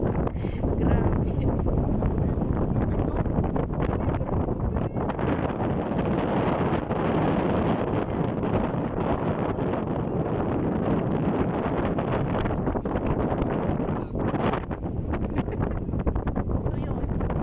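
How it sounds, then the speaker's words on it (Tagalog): Strong wind buffeting a microphone outdoors on a farm, a loud, continuous roaring rumble with gusty surges, steady for the whole stretch. "Grabe yung hangin."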